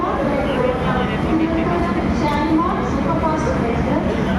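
A continuous low rumble of a train fills the scene, with people talking faintly over the steady mechanical drone.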